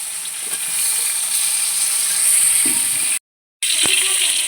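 Potato, pointed gourd and pumpkin pieces fry in a pan, giving a steady loud sizzle and hiss with a brief break near the end, no talk over it.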